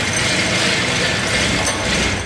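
An automatic two-speed Jawa motor scooter engine being turned over, giving a rapid, even mechanical chuffing and clicking from compression strokes, close and loud for a couple of seconds with no talking.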